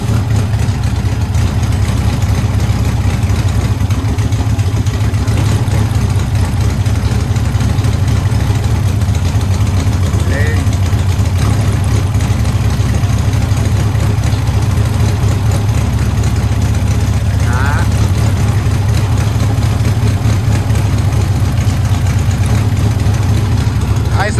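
A Volkswagen Beetle engine, partly dismantled for repair, idles steadily with all four cylinders firing evenly, a continuous low rumble running throughout with faint metallic ticks and occasional background voices.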